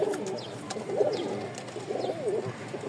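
A male Indian lakkha (fantail) pigeon coos nearby in two soft, rolling phrases, with faint background rustle between them.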